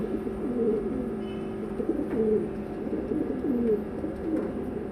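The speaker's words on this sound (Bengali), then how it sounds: "আজকে অনেক দিন পর রাতে ছাদে উঠলাম কবুতরগুলো দেখার জন্য" Pigeons on a rooftop at night give soft, repeated throaty coos, several overlapping calls close by against a quiet, faint hum.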